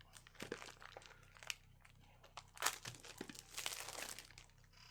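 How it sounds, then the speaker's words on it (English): Thin plastic unboxing packaging crinkles and tears in scattered bursts, quiet and close, with a louder crunchy rip midway and a steady low hum underneath. "First, we're going to open this. Should be easy. It's just plastic."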